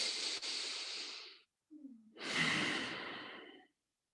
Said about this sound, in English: let's take a full cycle of breath here